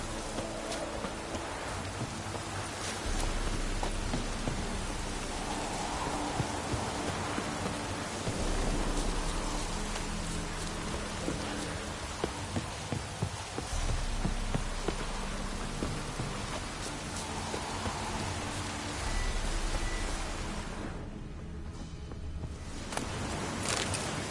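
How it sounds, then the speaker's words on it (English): Steady rain in the video game The Witcher III hisses and patters for the whole stretch, broad and even, with a brief drop in the texture near the end; no voices. "Looks like rain."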